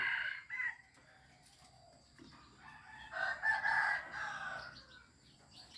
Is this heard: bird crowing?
yes